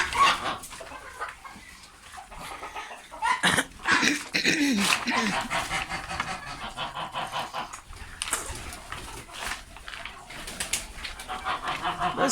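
A backyard flock of chickens, roosters and a turkey kept at home clucks and calls continuously and nearby, with busy overlapping squawks, some louder bursts, and a person talking among them.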